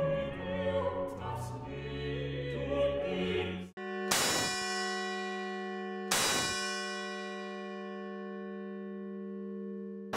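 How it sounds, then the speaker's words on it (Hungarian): Two big bronze bells of the Nádi Boldogasszony church in Gyula ring out alone, each a loud clanging strike about two seconds apart that leaves a long, bright humming decay. A faint indistinct sound precedes the strikes. "A kisebb harangról általában egyet, nagyobbakról kettőt, az egészen nagyról pedig három tiszta hang vehető le"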